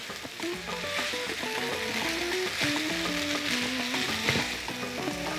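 Pasta with mushrooms and tomatoes sizzles steadily in a hot pan while being stirred, with close, continuous frying crackle and soft scraping from the stirring, plus light tonal background music underneath.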